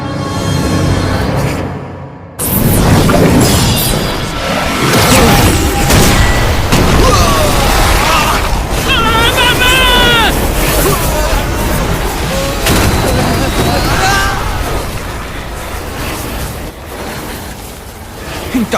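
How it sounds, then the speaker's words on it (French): A loud, prolonged explosion in a French-dubbed animated series, Deadman Wonderland, erupts after a brief lull: a heavy crashing boom rolls into sustained rumbling and debris, mixed with dramatic sound effects and scattered voices. "Une explosion!"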